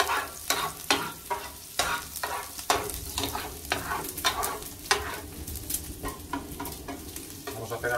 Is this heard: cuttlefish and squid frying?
yes